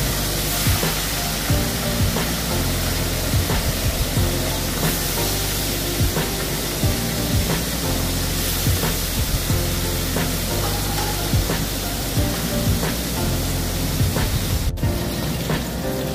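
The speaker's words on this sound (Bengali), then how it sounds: "এবারে নুন আর হলুদ মাখিয়ে রাখা ইলিশ মাছ গরম তেলে ভেজে নিতে হবে।" Salted, turmeric-rubbed hilsa fish frying in hot oil, a loud, dense, continuous close sizzle with crackling spits throughout and no talk.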